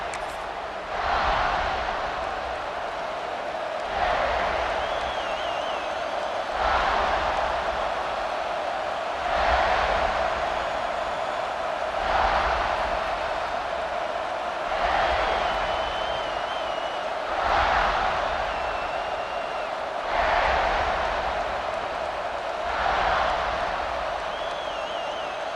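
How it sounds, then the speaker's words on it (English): Stadium crowd in EA Sports College Football 26 during a South Carolina vs UNC game: a steady, loud roar that swells in waves about every five seconds, with no voices standing out. "This crowd ready to make its presence known."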